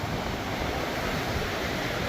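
Rough sea waves pound the coast of St Mary during Hurricane Melissa, giving a continuous loud roar of surf mixed with heavy wind buffeting the microphone, with no pauses.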